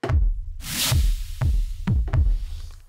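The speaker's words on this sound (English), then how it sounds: "I've programmed my own drum sounds that I've created into this" Self-made electronic drum sounds are triggered on drum pads: deep booming kick-like hits in an uneven pattern, with one hissing noise burst and sharper snappy transients, close and punchy.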